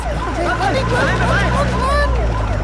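A wailing police car siren sweeps up and down through busy street noise, with overlapping tones and a constant low rumble of traffic; voices murmur in the background.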